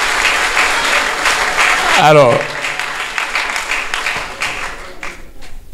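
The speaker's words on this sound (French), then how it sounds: "Applaudissez parce qu'il y aura une rupture." Audience applause at a university conference-debate, a dense, loud wash of clapping that fills the hall, with a voice briefly breaking in over it before the clapping thins out toward the end.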